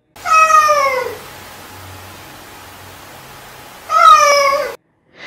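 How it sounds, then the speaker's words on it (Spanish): A shop cat gives two clear, drawn-out meows, one at the start and one near the end, separated by a quiet stretch with a faint hiss. "¿Qué es lo que usted quiere decir, gato de tienda?"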